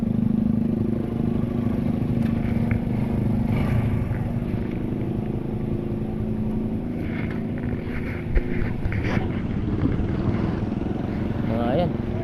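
A motorcycle engine drones steadily on a flooded road turned sea-like, mixed with splashing water and wind buffeting the microphone; loud and continuous throughout, with a person speaking over it.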